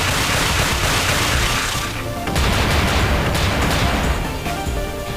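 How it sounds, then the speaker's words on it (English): Rapid chains of explosions in the side-scrolling game Freedom Planet, loud continuous booms and blasts layered with crackling bursts throughout. "Got a lot of Gunstar Heroes-esque explosions"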